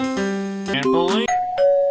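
A doorbell in the video game Baldi's Coma rings a two-tone ding-dong chime, followed by short bright game tones, heard up close and alone.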